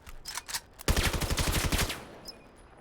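Gunshots in the game Crest: a few scattered shots open, then a rapid burst of roughly a dozen evenly spaced rounds fires for about a second, close and sharp, followed by quieter tail sounds.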